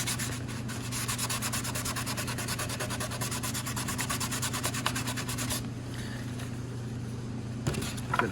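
The edge of an RC airplane is hand sanded in quick, rhythmic rubbing strokes, close and steady over a constant background hum, before the strokes ease off and grow quieter.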